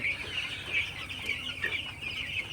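Many broiler chickens cluck and chirp together inside a poultry shed, a continuous busy chatter of overlapping calls at moderate volume.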